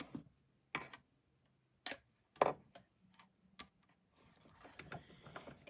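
An embossing plate machine is cranked by hand for a craft project, giving a quiet series of separate clicks and ratcheting knocks at irregular intervals, ending in a soft grinding rustle.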